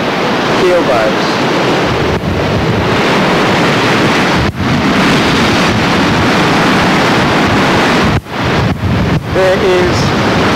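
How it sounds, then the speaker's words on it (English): Wind-driven sea waves and white water break steadily along the southern face of a surf zone, a continuous loud roar under heavy wind buffeting on the microphone, with a few brief dropouts. "continual white water blown in from the sea along the southern face"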